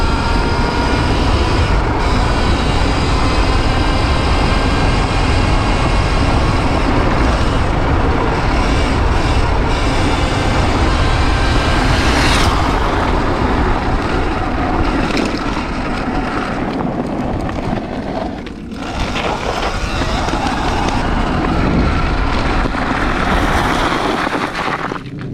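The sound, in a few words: Sur Ron electric dirt bike with KO Moto controller riding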